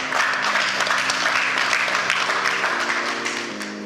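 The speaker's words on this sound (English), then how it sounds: "Let's give ourselves a round of applause." Conference audience applauding together, a dense wash of clapping that holds steady for a few seconds before easing slightly toward the end.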